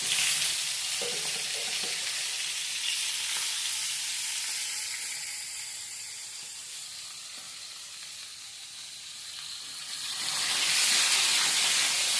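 Cut pointed gourd (potol) pieces fry lightly in a pan, giving a steady, continuous hiss of sizzling oil that swells slightly toward the end, with no voices.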